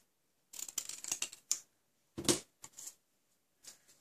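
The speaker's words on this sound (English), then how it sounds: "Trim off this end." Scissors snip the end off a paper card in a few quick, close, crisp cuts, one brief burst followed by another louder snip and a faint last clip, with quiet gaps between.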